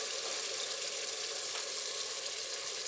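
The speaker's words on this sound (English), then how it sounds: "once the vinegar hits the oil" Vinegar hitting hot oil in a pan while cooking pickled fish gives a loud, dense, continuous hiss, close and steady for a few seconds with no voices.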